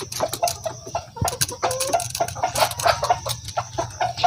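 Free-range heritage chickens cluck and call in a backyard farm in the province, a steady run of close, overlapping clucks with occasional louder squawks over low background hum.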